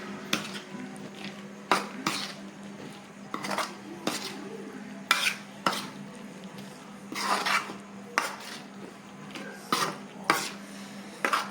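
Jujube chutney mixed by hand in a bowl, a spoon knocking and scraping against the sides in repeated sharp clinks and rubs at a fairly quiet level, with no one speaking.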